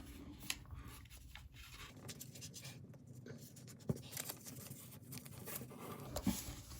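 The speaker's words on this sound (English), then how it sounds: "So we take this here and we fold it." Origami paper being creased and folded by hand into a paper crane, giving soft crinkling and rustling with a few sharp creasing taps, close and quiet, no talking.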